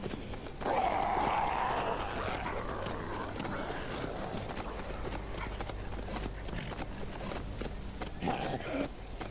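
Horse hooves clip-clopping in the survival video game HumanitZ, a steady run of hoofbeats with an occasional whinny, set at moderate loudness under a continuous game ambience.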